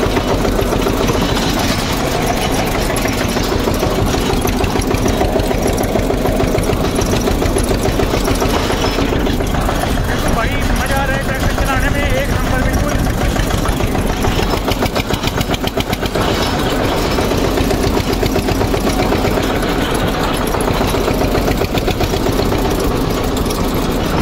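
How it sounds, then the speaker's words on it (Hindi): An Eicher 241 Xtrac tractor engine idles steadily close by, a loud continuous diesel chugging with a fast mechanical knock that runs unbroken throughout, no talking over it. "देखो ट्रैक्टर की साउंड"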